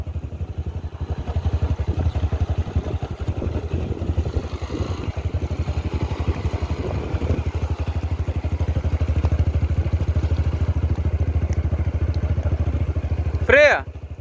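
A motorcycle engine revs and accelerates as a learner rider is taught, a loud, close, rumbling drone that holds steady throughout, with a short sharp rising whine near the end.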